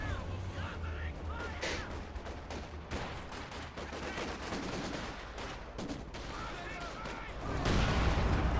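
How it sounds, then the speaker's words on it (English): A Katyusha rocket barrage in the real-time strategy game Company of Heroes 2 fires as a dense, rapid rumble of launches and explosions with sharp bursts, swelling louder toward the end. "Katusha barrage there, but does get dodged"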